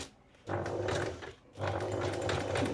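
A sewing machine stitching a straight seam runs in two bursts of steady motor hum and needle clatter, close and loud, separated by a short pause.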